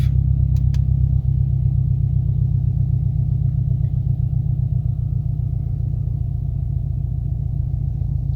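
A car engine idles high with a steady, close low rumble and an even pulsing throb that continues unbroken, with no talk.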